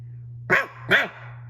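A boy voicing a dog, imitating two short barks in quick succession, close and clear, over a steady low hum.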